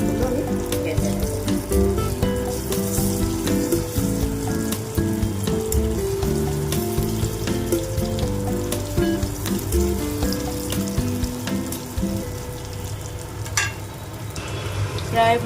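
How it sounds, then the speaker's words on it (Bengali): Soybean muitha dumplings sizzle and crackle in hot oil, frying one after another in a steady, close bubbling hiss with occasional clinks and splashes, and no talking. "এক এক করে মুইঠাগুলো আমি ভেজে নেব।"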